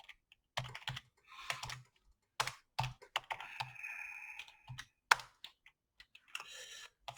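Keys clatter on a computer keyboard in short bursts of quick clicks separated by brief pauses, close and moderately loud, with no talking.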